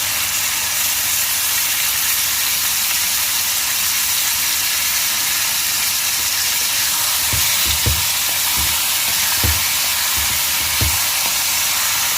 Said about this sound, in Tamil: இந்த டைமில் நம்ம சிக்கனையும் போட்டு வதக்கலாம்.